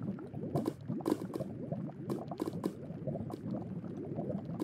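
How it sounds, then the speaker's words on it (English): A lava pool in the Roblox-style game Master Builders bubbles and gurgles steadily, a soft continuous boil with popping bursts, fairly quiet and heard alone. "It's a dangerous lava pool."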